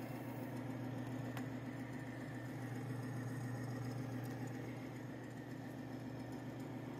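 Timken bearing demonstration machine hums steadily while running without oil at high temperature, a constant low mechanical drone with faint higher whine, no speech.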